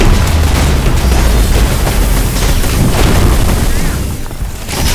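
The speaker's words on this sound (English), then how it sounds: "Have fun with this missile, idiot!" A missile explosion in the video game Loopmancer sounds as a dense, loud, continuous roaring blast that fills the whole clip with rumbling booms.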